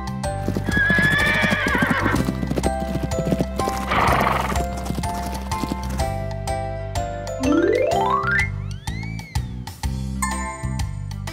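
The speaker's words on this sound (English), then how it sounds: "Horse." A horse whinnies loudly with a rising then falling call, accompanied by steady clip-clop hooves and a faint jingle of tack, all over continuous background sound.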